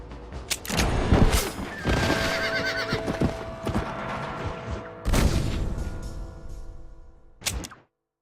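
Horse galloping in Red Dead Redemption on Xbox 360 while fleeing pursuers out of Blackwater; loud whinnies and hoofbeats churn through dense, busy game noise with sharp bursts, ending abruptly.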